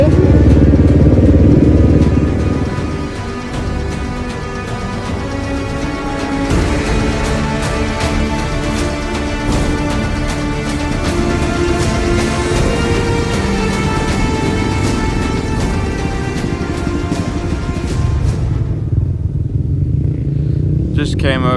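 Dakar Rally motorcycles at the start of stage 11, loud engines revving and idling nearby in a continuous rough clatter that swells and fades, with someone talking over the din.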